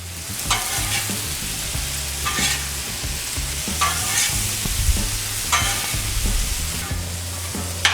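Shrimp stir fry cooking on a 36-inch Blackstone griddle, with vegetables steadily sizzling and being tossed, periodic scraping strokes of a spatula against the flat top cutting through the continuous close sizzle.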